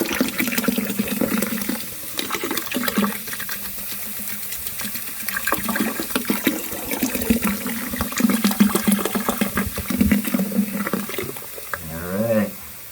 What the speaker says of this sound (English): I'm going to start pouring some concentrated lemon juice in.